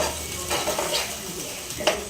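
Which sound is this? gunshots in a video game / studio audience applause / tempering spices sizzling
tempering spices sizzling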